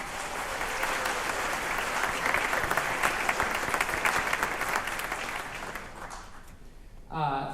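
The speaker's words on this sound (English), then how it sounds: "So we'll give them another round of applause, please." Audience at a holiday jazz band concert applauding two alto saxophone soloists, a steady round of clapping that fades out before a voice speaks at the end.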